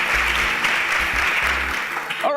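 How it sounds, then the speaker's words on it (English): Audience applause on a TV show, dense and sustained clapping from a studio crowd, loud and close, tapering off near the end. "Please a round of applause for Marvelous."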